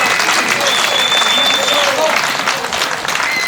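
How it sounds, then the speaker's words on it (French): An audience at a French show applauds performers with steady, dense clapping that stays loud and even throughout. "On applaudit bien fort ces artistes de la résistance française."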